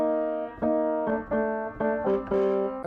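Piano riff from the bridge of a 1986 song, a series of sustained harmonic chords struck in a repeating rhythm, clear and close with no talking.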